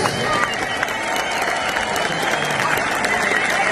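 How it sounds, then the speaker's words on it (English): Dense, sustained applause from a large boxing crowd in Glendale, Arizona after a 12-round fight, steady and fairly loud, with a faint ring announcer's voice carrying beneath the clapping. "let's get a nice round of applause out here for both of these warriors"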